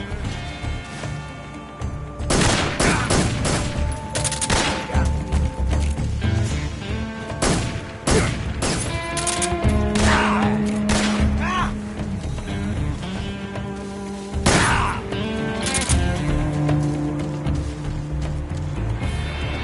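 Bursts of gunfire from the stealth-action video game Metal Gear Solid 3, with sharp repeated shots and thuds over a game score, loud and dense through most of the stretch.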